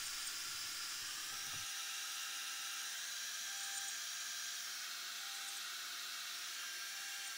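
A benchtop CNC machine runs work-holding G code, its spindle giving a continuous high-pitched whine close by, with a low rumble that drops away early and no talking.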